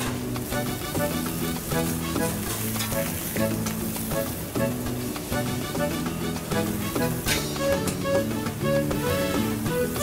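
Food fries in oil on a restaurant grill, a steady close sizzle running the whole time beneath prominent background music.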